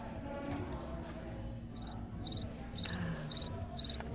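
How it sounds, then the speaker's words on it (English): Crickets inserted into an empty silence, chirping in short, evenly spaced bursts about every half second over a faint background hum, with no speech. "My engineer, Steve, will insert crickets into that very large silence."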